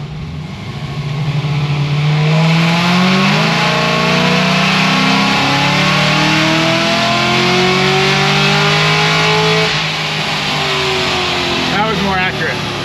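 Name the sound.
850HP Cadillac CTS-V engine revving during a dyno pull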